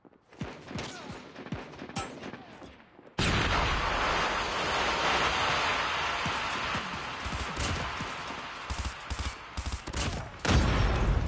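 Sustained, dense automatic gunfire in the mobile shooter game Call of Duty Mobile, loud and continuous bursts overlapping through most of the stretch, with a brief quieter lead-in before the shooting kicks in.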